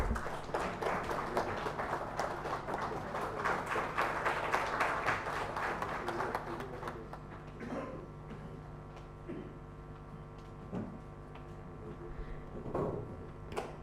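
Crowd clapping at an inauguration ceremony, steady and full for about seven seconds, then fading into scattered sparse claps and a short late burst.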